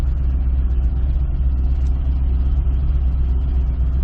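A 2005 Chevrolet Corvette engine idles nearby with a loud, steady low rumble that sounds slightly uneven and rough.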